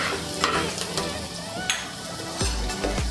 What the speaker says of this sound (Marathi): ह्या बघा मिरच्या भाजल्यात